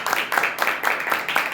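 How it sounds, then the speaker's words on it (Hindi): A church congregation claps hands in a steady rhythm, about eight close, loud claps in even succession filling the short stretch. "ताली बजा के हम प्रभु के नाम को"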